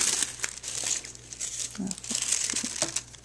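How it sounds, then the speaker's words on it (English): Tissue paper is crinkled and folded over into four layers, giving a close, continuous papery rustle with soft crackles throughout, fairly quiet, with a faint low hum underneath. "I'm just going to go ahead and fold it over again. So we essentially have 4 layers of the tissue paper here."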